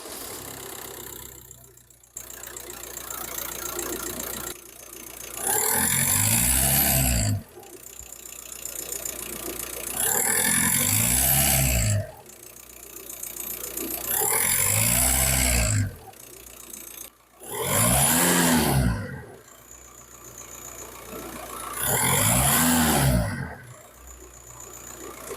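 A car engine runs while drawing fuel system cleaner additive from a bottle through a hose. It idles with a knocking chug, broken by several loud, sustained surges that rise and fall at intervals.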